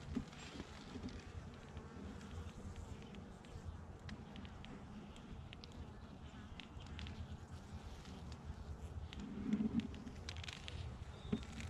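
Honeybees hum faintly and continuously during a hive inspection, a low steady buzz with occasional passing individual bees and small handling clicks, heard quietly up close.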